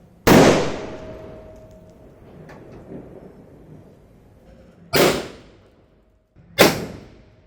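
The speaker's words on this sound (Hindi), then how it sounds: "देखते कैसा चलता है ये पटाखा" Chirag brand Diwali firecrackers going off outdoors: three sharp, loud bangs, each trailing off in a ringing decay, the first alone and the last two about two seconds apart.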